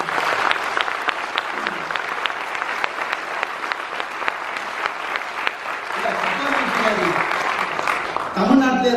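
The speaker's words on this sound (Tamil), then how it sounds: "இங்கே தமிழ்த்தாய் வாழ்த்து பாடிய 6 குழந்தைகளுக்கு இந்த அரங்கம் முழுவதும் ஒரு கைத்தட்டலை." An auditorium audience claps steadily and loudly for children who sang the Tamil anthem, the dense applause holding for about eight seconds with a faint voice rising near the end.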